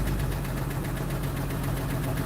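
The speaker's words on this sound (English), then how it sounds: "A revving of the Trailblazer." A Chevrolet Trailblazer with 72,000 miles and a suspected fault, its engine running steadily up close with a low, even rumble and a faint knock, the revving only slight and with no talk.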